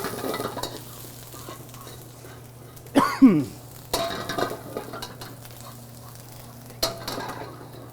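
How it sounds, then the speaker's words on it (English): Chilies, ginger and garlic stir fried in chili oil, a faint steady sizzle broken by a few sharp scrapes and clanks of a utensil against the pan. "Pepper's gonna go in, then you're gonna saute it. Stir fry."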